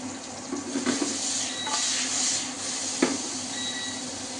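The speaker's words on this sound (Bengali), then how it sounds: "গার্নিশ করার জন্য আমি কিছু সুকিনি ভেজে নিচ্ছি।" Zucchini slices fry in a pan beside a covered pot of chicken, making a broad, steady hissing sizzle with a few brief bursts, fairly close and alone.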